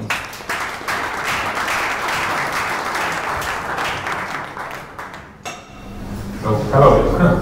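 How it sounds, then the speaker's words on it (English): A meetup audience applauds a speaker coming on stage: dense, steady clapping from a crowd for about five seconds, then fading as a voice begins talking. "Give him a big applause, please."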